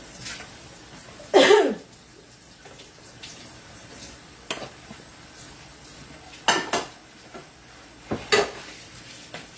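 A spoon scrapes and knocks against a non-stick pan of leftover food in a few sharp, separate strokes over a quiet background, with a faint sizzle in between.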